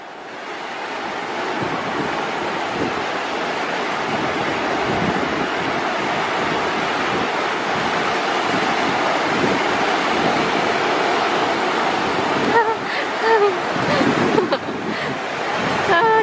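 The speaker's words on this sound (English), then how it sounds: "Welcome to La Jolla Beach." Ocean surf at La Jolla Beach rolling and washing in a continuous loud roar, mixed with gusty wind buffeting the microphone and faint voices near the end.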